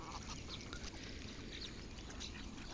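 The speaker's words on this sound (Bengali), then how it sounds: "তো এখানে অনেকগুলো হাঁস আছে" Many ducks quack and honk on a riverbank, some nearer and some farther off, over a steady outdoor hum of wind and water, with no talking.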